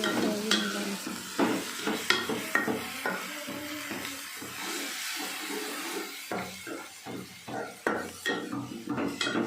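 Onions frying with ginger garlic paste in a pan for bagara rice, with a steady sizzle under repeated scraping and stirring of a utensil against the pan, close and fairly loud, with no talking.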